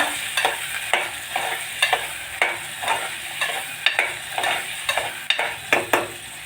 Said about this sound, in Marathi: हळद आणि मीठ मिक्स करूया आपण फोडणीला